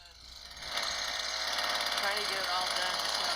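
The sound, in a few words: hedge cutter cutting trees, played from a video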